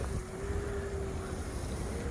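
A Proboat SonicWake v2 RC speedboat on 6500 batteries makes a speed pass on the water, its thin motor whine held steady at a distance beneath strong wind noise.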